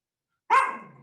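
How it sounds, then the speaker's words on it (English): A dog gives a single close, sharp bark after a stretch of silence, the sound trailing off quickly. "your dog is going to bark in the middle of your presentation"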